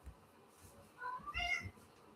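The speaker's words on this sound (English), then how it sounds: "I wonder if you heard my cat" A pet cat gives a short, faint meow, a thin rising-and-falling cry in a quiet room, with soft background noise around it.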